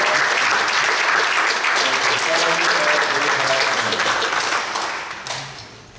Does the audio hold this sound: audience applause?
yes